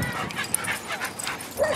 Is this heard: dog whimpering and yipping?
yes